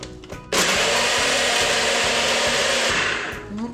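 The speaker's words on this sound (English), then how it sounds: "Put it in our blender" A kitchen blender whirs loudly into a steady, harsh grinding roar as it crushes ice for a cool summer drink, starting abruptly and holding close and constant before easing off at the end.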